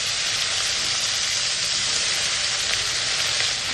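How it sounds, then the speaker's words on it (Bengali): Chopped onion hitting hot oil in a pan while cooking a pointed gourd and prawn dish, giving a loud, steady, close hiss of frying that continues unbroken with no talk. "এবার পেঁয়াজটা দিয়ে দিচ্ছি।"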